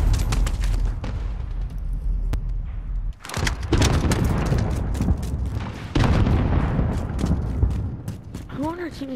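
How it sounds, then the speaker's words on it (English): Explosions from an RPG in a multiplayer video game: heavy booming blasts, with a sharp burst near the middle and another later, over continuous gunfire and battle noise, with a faint voice underneath. "team is using an RPG"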